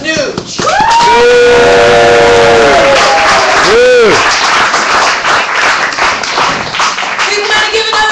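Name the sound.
crowd applause and cheering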